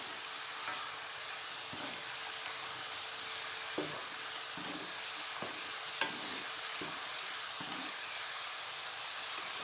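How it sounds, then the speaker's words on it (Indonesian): Potato fries deep-frying in hot oil over high heat give a steady, soft sizzle and hiss, with a few scattered clinks and stirring knocks from the pan or utensil. "Sekarang kita goreng lagi yang sudah dingin tadi"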